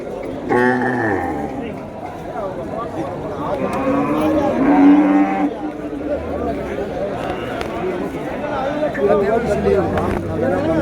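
A large native cow lets out drawn-out moos nearby amid a busy cattle market in Vaniyambadi, Tirupattur, with people chattering in the background.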